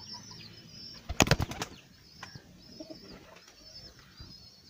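Pigeons' wings clap and flutter in a quick burst amid soft bird calls, with faint pigeon cooing and outdoor ambience around it.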